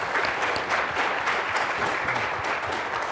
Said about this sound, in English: big round of applause for all of our panelists